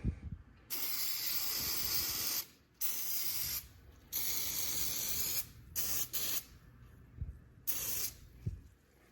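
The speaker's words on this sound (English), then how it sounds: "top of that gas tank, probably won't be able to see, but we're gonna spray it" An aerosol can sprays around the engine of a 2022 Yamaha WaveRunner TR-1, hissing in a series of bursts, some long and some short, with brief silent gaps and faint clicks between them.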